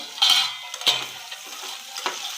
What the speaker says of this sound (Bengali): আলুগুলো একটু ভালো করে ভেজে নিব।